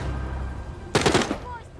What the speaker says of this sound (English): They have automatic weapons.